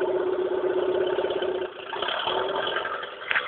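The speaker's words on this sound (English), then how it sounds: "This is Ben's car without an exhaust." A Peugeot 106 with a 1.1-litre petrol engine runs with no exhaust fitted, a loud, raspy, buzzing idle that dips briefly midway before picking back up, heard close and alone.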